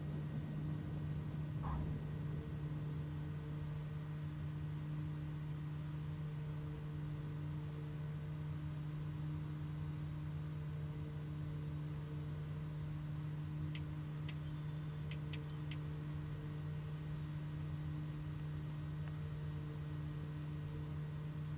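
Aircraft engine on takeoff roll in MSFS 2020, a steady droning hum with a strong low tone, unchanging and continuous, with a few faint ticks and clicks.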